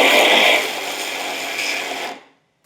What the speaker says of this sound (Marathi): पाण्याचा अजिबात वापर न करता मिक्सरमध्ये याची भरड काढूयात